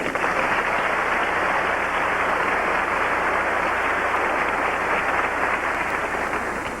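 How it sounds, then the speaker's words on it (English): The audience at the 1994 Miss Alabama Pageant breaks into loud, sustained applause, a thick, even roar of clapping that holds steady for several seconds with no voices above it. "So let's give them a round of applause for encouragement."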